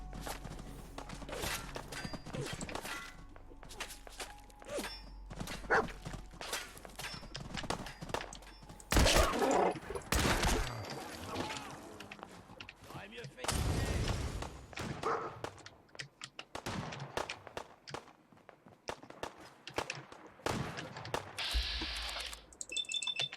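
Gunfire aimed at the player in Fallout 4 comes as dense, irregular bursts of sharp thuds and cracks, loud and close, with heavier clusters midway and no talk.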